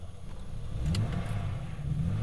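BMW E30 325i engine idling close by, a steady low rumble with slight swells in revs throughout and no voices over it.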